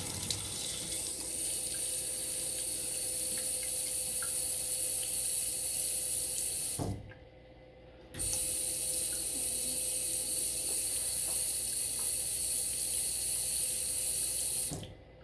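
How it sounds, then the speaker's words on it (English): A Delta touchless kitchen faucet, the model with a failing solenoid, runs a steady stream into the sink that stops for about a second in the middle, then resumes before cutting off near the end. "now we're going to test out the faucet."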